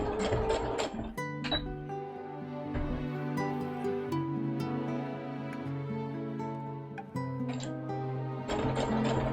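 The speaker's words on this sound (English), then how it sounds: "Sew over the hole." A sewing machine stitching cosplay fabric whirs in a steady run with a humming motor tone, framed by bursts of rattling and clicking at the start and end.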